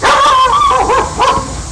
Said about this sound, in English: Oh, stop barking at me